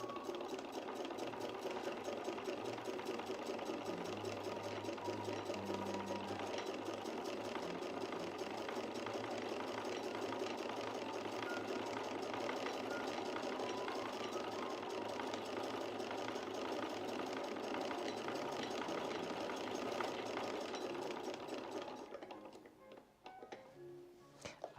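Sewing machine running steadily while stitching fabric with a somewhat blunt needle, a continuous fast mechanical whir and needle chatter that carries on for most of the span before stopping near the end.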